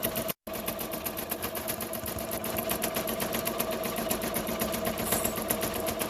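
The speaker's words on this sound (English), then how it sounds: "our machine is stitching beautifully" A Ricoma MT 1501 embroidery machine stitching a design, giving a steady, fast mechanical whirr with rapid needle ticking that runs continuously after a brief dropout near the start, close and moderately quiet, with no talking.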